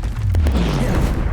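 A Confringo fire spell bursts in a Hogwarts Legacy duel: a loud, booming blast with a rumbling low tail that sustains across the short moment, thick and close, with no voices over it.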